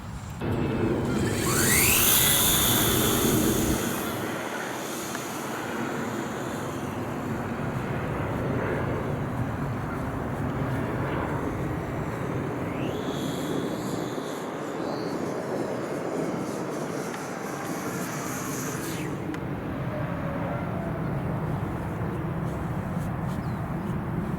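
Electric motor of a CCM Liberty F5J RC sailplane in flight over an open field, a steady whine overhead with a louder pass early on, under constant wind rumble on the microphone.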